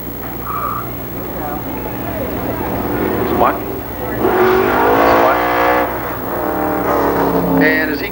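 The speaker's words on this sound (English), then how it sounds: "So 4 fast flying laps for the late models." Late model race cars lap Columbus Motor Speedway, a steady engine roar rising and falling as cars pass, with a public-address announcer talking loudly over the noise throughout.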